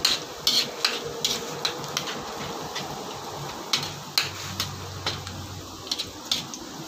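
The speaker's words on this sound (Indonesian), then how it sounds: "habang ginigisa ko lang muna po yung ating bawang." Garlic sautéing in a pan, a steady low sizzle under repeated sharp clinks and taps of a utensil against the cookware, with a faint hum running beneath.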